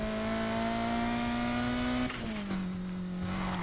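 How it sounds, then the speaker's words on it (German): A Need for Speed Heat video game car engine revs with a steady high whine that holds, then drops in pitch partway through, continuous and loud with no talking. "Das Auto ist auch ein bisschen laut noch."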